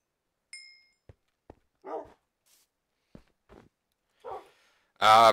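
Dogs in Minecraft with the Tekkit mod, several short separate barks spaced across the stretch with mechanical clicks and thunks between them, ending in a louder burst of sound.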